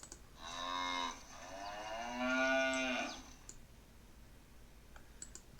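A cow mooing sound effect plays as one long, drawn-out bellow that dips briefly midway, followed by faint keyboard clicks in a quiet room.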